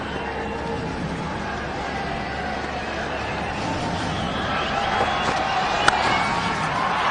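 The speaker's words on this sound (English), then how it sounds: "And just listen to the crowd." A cricket stadium crowd at an India versus Australia match roars and cheers continuously, a broad, distant wash of many voices that swells slightly toward the end, with a commentator speaking over it.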